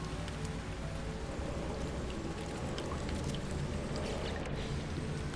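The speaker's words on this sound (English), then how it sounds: "Why is it raining in here?" Steady rain falls inside a moon base in the No Man's Sky video game, a dense, even hiss of drops on surfaces that continues without pause, fairly faint, with no one speaking.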